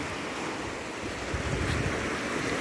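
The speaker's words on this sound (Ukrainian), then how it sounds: "послухаю море і почекаю концерт на фортепіано" Sea waves washing onto Golden Beach in Odesa on the Black Sea in the evening, a steady continuous surf wash with wind noise throughout and a slightly stronger surge midway.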